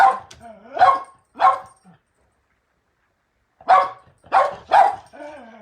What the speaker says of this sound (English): He's barking right at me.